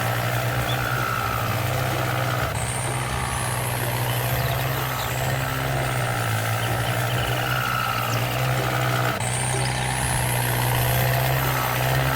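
A continuous low engine drone of a Kubota M7060 farm tractor pulling a hay baler in Farming Simulator 19, steady and loud throughout, with faint higher whines rising at intervals.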